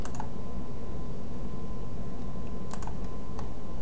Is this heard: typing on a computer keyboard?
yes